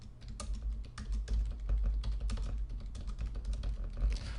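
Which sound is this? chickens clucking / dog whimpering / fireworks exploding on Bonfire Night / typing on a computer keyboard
typing on a computer keyboard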